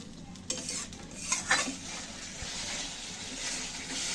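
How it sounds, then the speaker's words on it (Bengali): Spiced masala paste being stirred and slowly fried with a splash of water in a pan for a potato and egg curry, with scraping spoon strokes and a soft sizzle, close and fairly quiet. "জল দিয়ে একটু ধীরে ধীরে কষাবো"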